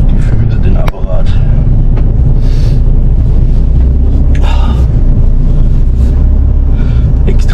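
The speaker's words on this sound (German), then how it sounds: "Extremer Wind." Extreme wind roars steadily and loudly, buffeting the microphone with a low rumble that never lets up, while a person talks over it.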